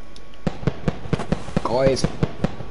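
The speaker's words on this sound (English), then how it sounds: "Guys, there's fireworks!" Fireworks bursting in a Roblox theme park game, a rapid series of sharp, evenly spaced pops with a short whistling rise near the end, while a person speaks briefly over them.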